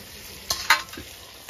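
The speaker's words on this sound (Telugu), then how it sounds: "ఇవ ఫ్రై అవుతున్నాయి ఫిష్," Fish frying in a pan over a wood fire gives a low, steady sizzle, broken by a couple of sharp clinks from stirring within a second and a half. No one speaks.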